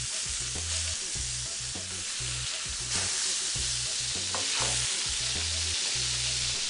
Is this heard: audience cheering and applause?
no